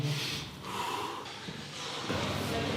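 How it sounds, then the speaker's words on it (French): Breathing during a Systema relaxation exercise, soft close inhales and exhales with a gasping, snorting quality at a fairly low level, alone without talk. "Donc on commence à respirer et la relaxation et la respiration dans le mouvement."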